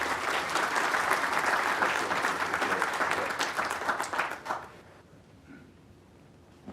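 Audience applause welcoming President Jeff Schmid to the stage at a morning address, a dense, steady wash of many hands clapping that fades out after about four and a half seconds, leaving a quiet room.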